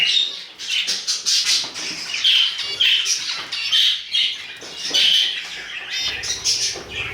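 Budgerigars in an indoor cage with chicks squawk and chirp continuously, a busy, bright chatter of overlapping calls that stays close and fairly loud throughout.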